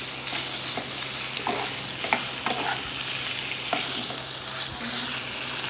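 About 300 grams of chicken for a pizza topping sizzles and crackles steadily in a pan. Occasional stirring scrapes and clicks sit over the frying, with no one speaking.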